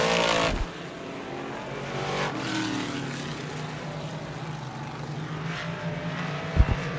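Modified race cars roar around an oval track during a heat race, engines droning steadily and loud, with a close pass rumbling near the end.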